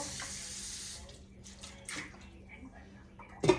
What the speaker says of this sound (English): water is on.